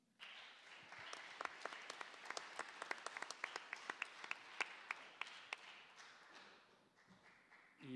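Sustained audience applause at a panel event on media democratization and media law reform, a dense wash of many hands clapping steadily for about eight seconds with sharper individual claps standing out, then thinning toward the end.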